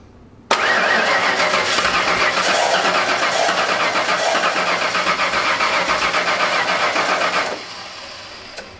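A 1989 Ford F-150 with electronic fuel injection and a dead fuel pump cranks steadily for about seven seconds without catching, a loud continuous churning starter grind that cuts off abruptly.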